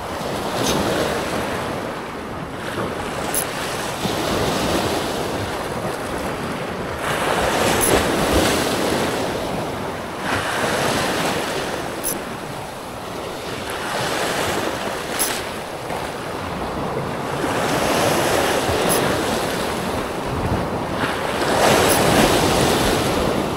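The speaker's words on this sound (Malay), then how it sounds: "Alun boleh tahan tu, gulung-gulung." Sea waves roll and surge at a fishing spot where murky water sits at high tide. The broad, steady wash swells and recedes in slow cycles, with wind buffeting the microphone and no voices.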